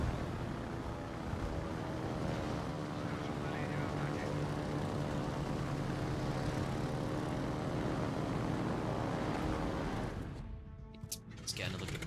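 Torpedo bomber aircraft in a naval combat video game give a loud, sustained propeller-engine drone that holds steady and close, then abruptly cuts out near the end, leaving brief scattered noises.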